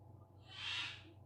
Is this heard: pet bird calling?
yes